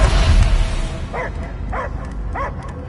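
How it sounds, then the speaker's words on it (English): Dog barking in the Guardians of the Galaxy video game on PS4: three sharp barks spaced about half a second apart, sounding over a low rumbling game backdrop. "I hear only barking."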